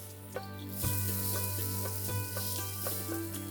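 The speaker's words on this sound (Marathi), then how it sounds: "आता आपण थालीपीठ उलटून घेऊया आणि दुसरी बाजू सुद्धा छान खरपूस अशी भाजून घेऊया।" Sweet potato thalipeeth crisping in ghee in a pan gives a steady, soft sizzle with an underlying hum and a few light taps of a spatula.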